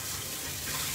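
Tap water runs steadily from a faucet as hands are washed at a kitchen sink, a continuous close gush with no pauses and no talking.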